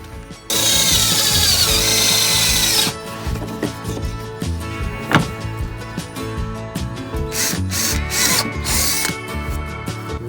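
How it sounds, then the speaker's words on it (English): Power drill boring a hole into a wooden sun lounger leg, a loud whining burst of about two seconds followed by gentler rattling, tapping and handling of the wood and tool. "Next, I'm gonna drill the hole into the leg."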